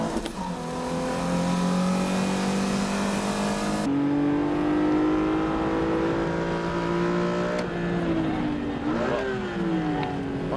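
Nissan Z and BMW M3 race cars roar around a track on the final lap, engines holding high revs with gear changes and shifting pitch as they pass close by.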